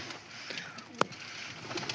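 Pigeons being fed coo faintly in a soft, low murmur, with one brief sharp click partway through against quiet background hiss.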